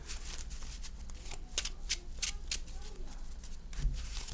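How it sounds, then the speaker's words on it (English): A deck of Salamangreat trading cards is shuffled by hand, giving a series of quick, crisp riffling bursts at close range with no talk. "So here, just shuffling again, trying to do another one."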